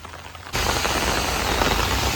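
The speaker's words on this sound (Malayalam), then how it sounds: "നല്ല മഴ കേട്ടോ" Heavy rain in a rural Idukki village suddenly swells into a dense, loud, even hiss of downpour, close and steady, with no voices.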